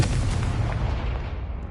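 The Confringo fire spell from the Hogwarts Legacy video game goes off as a dull, rumbling blast that fades out over a couple of seconds.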